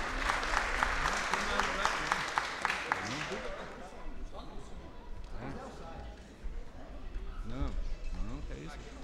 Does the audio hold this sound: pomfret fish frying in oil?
no